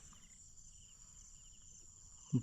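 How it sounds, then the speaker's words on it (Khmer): Crickets chirp in a faint, steady high drone over rice fields at dawn, with a soft low knock at the very end and no talking. "ឮតែសំឡេងចង្រិតយំចេត"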